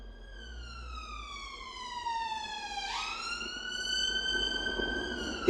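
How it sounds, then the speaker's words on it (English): A police siren in a quaint village street wails with a falling pitch and then sweeps back up, growing steadily louder as it nears. It sounds alone, with faint traffic noise underneath. "Even in a quaint little village on a Wednesday morning, when I start filming, the sirens are out."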